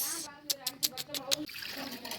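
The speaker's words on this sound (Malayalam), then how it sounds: "ഇത് വെള്ളം" Water is poured into a cooking pot in a home kitchen, a short watery splash with several bright gushes, close and fairly quiet.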